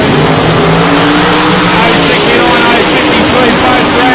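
Drag racing cars at South Coast Raceway tear down the strip in a loud, dense engine roar that fills the whole stretch, with a commentator's voice running underneath.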